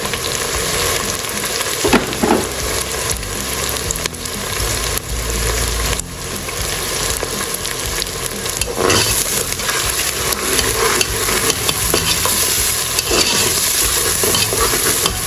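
Onions frying in oil with half a teaspoon of salt for Afghan Kabuli pulao, a dense, steady sizzle that runs the whole time with occasional stirring scrapes and clatters, close and loud, with no talking.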